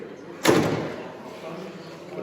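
The hood of a 2021 Skoda Octavia is dropped shut hard in a showroom, giving a single loud, close slam that rings out briefly before fading into the quiet room.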